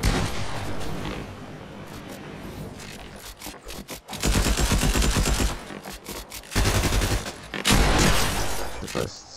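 Gunfire rattles in a shooter video game, rapid bursts and sustained volleys close and loud, with players talking over the shooting.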